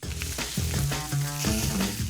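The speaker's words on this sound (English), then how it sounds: "Kobidek kebab, sizzling, smoky, meaty, grilled fresh to order" Loud, steady sizzling of Persian koobideh kebab on a hot grill, crackling continuously with faint clinks and a low musical tone underneath.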